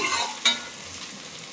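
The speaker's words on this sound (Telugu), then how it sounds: "క్యారెట్ ఒకటే ఉంది అందుకే క్యారెట్ వేస్తున్నాను" Carrot pieces stir-fry in a hot pan with a close, steady sizzle and a sharp clatter of stirring near the start, then a continuing frying hiss.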